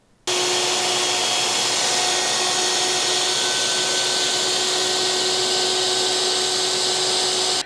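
Festool router fitted with a Rout-N-Plane bit, 8 mm shank, surfacing a slightly cupped wooden board, giving a loud, steady, high-pitched motor whine with broadband cutting noise that starts abruptly and holds unbroken for the whole stretch.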